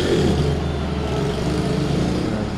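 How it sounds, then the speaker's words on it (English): A loud motorbike engine rumbles steadily throughout, a deep continuous drone with no break, close and dominant. "A very loud motorbike somewhere in the surrounds."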